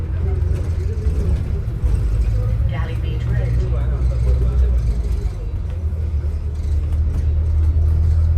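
A red London double-decker bus on route 81 drives along, its engine a steady low rumble with mechanical rattles and road noise heard from inside the cabin.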